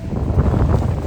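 Wind gusting across a snowy mountain summit in winter, a brief loud roar buffeting the microphone with low rumbling turbulence, no speech.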